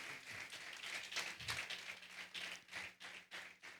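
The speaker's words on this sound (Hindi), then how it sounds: "क्यों ना एक बार उनके लिए भी हम ताली बजाकर प्रभु को धन्यवाद दें।" A church congregation claps together in thanks, a faint, quick run of hand claps that settles into a slower, rhythmic beat.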